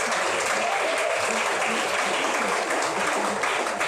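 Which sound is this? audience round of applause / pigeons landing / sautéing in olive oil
audience round of applause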